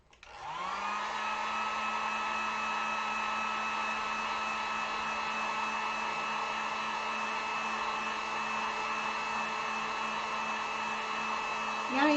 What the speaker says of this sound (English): Let me heat gun this real quick.